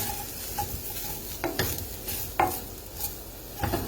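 Sweet potato hash sizzles in a frying pan as it is stirred, with steady frying hiss broken by several distinct scraping strokes of the utensil, close up.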